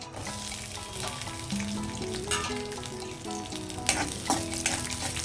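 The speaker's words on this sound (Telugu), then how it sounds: "ఆయిల్ హీట్ అయ్యింది శనగపప్పు ఇవి వేసాను" Chana dal, cumin, mustard seeds and garlic sizzle loudly and steadily in hot oil, with occasional stirring clatters and faint tonal background sound.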